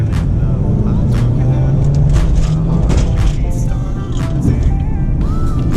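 Mercedes C-Class 300 engine accelerating hard, a loud, steady low roar with a rising tone, heard from inside or close by, with someone talking over it.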